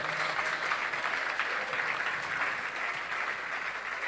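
An audience at a talk on building positive relationships keeps up a steady, dense round of clapping for the full few seconds, even and unbroken.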